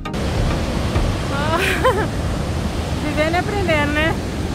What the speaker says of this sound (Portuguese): Essa aqui é uma das quedas, né?